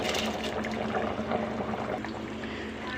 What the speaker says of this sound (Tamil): அரிசி எடுத்த பாத்திரத்துலேயே இன்னொரு அளவு தண்ணி ஊற்றிறேன்